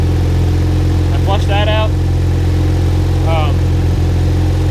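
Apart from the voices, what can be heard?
650cc buggy engine running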